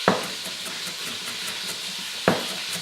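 Lamb meat sizzles in a casserole pot with a constant, moderate frying hiss, punctuated by two sharp knocks or clatters at the start and near the end.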